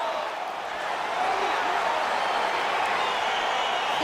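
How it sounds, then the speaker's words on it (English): Steady, dense crowd roar with scattered cheers swelling slightly after the first second, filling a virtual arena in EA Sports UFC 4 on PS5 as a fight begins, continuous and fairly loud with no talk. "crowd getting excited as this fight gets underway"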